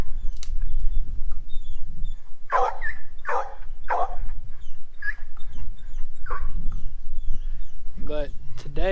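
Bella, a dog, barks and whines close by in several sharp bursts, some yips rising in pitch, while a person talks underneath on a farm with goats.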